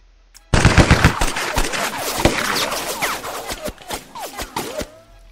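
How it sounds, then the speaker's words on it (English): Machine-gun fire from the LnLT Digital tabletop war game, beginning after a short pause as a loud, rapid burst of shots, then continuing as a long crackling fusillade with scattered sharp single reports, no talking. "Let's op fire with the machine gun, right?"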